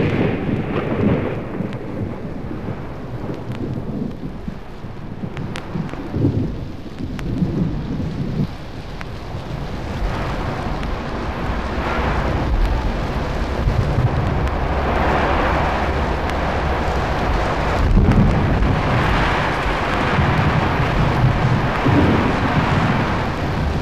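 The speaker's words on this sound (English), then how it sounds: "And all of a sudden, the storm broke directly over us." A thunderstorm breaking directly overhead above the Grand Canyon, with heavy rain pouring down steadily and rolls of thunder rumbling through, the downpour growing louder and denser toward the end.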